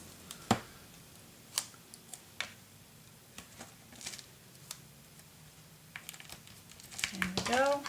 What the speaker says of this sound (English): Just putting some tape also.